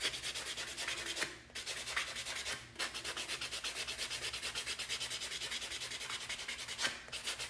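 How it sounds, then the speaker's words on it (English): A fingernail is buffed during an at-home dip nail manicure, with close, rapid rhythmic rubbing strokes repeating steadily and a few short pauses, with no talking. "I'm going to go ahead and finish my final finger for my buffing"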